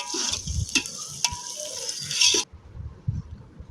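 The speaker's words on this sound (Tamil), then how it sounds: "எல்லாத்தையும் போட்டு நல்லா வதக்கிக்கலாம்" Whole spices and green chillies sauté in a pan for chicken biryani, giving a hiss and sizzle broken by scraping stirs and clinks of a utensil, then the frying drops quieter after a couple of seconds.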